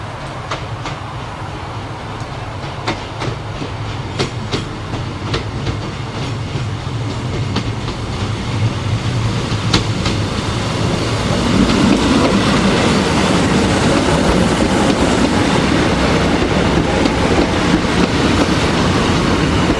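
A British Rail Class 156 diesel multiple unit rolls into Speen Bridge station: loud, steady wheel rumble with rhythmic clicks over rail joints and a low diesel drone that grows heavier as the train nears, with no talking.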